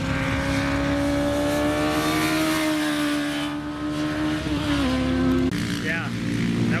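Racing motorcycle tearing past on a track, a loud sustained engine whine with shifting pitch that dips as it passes, steady and close throughout.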